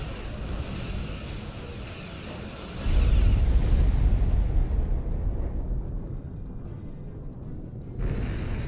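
Heavy booming starship phaser cannon fire from a Star Trek Online video game, with a deep rumbling low end, loud and sustained, fading into a windy roar before another burst near the end.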